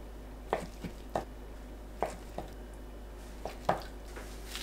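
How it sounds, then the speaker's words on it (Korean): A knife cutting acorn jelly (dotorimuk) into bite-size pieces on a board, with sharp, close chopping taps at irregular intervals over a quiet low hum. "도토리묵을 한입 크기로 썰어주세요."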